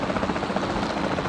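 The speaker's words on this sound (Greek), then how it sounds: "πρέπει τώρα να πάρω το κλασικό μας ελικόπτερο" Helicopter in Jurassic World Evolution 2, a loud, close, continuous rotor chop with a steady throbbing rhythm and engine hum, no voices.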